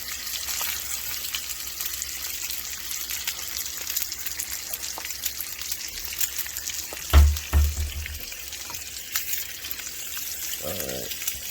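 Food sizzles steadily in a pan on the stove, a bright, even hiss with a few soft knocks partway through and no talking.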